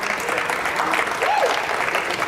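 An audience at a hackathon prize announcement claps and cheers in a full, continuous round of applause, with a few whoops rising above it and voices talking over it.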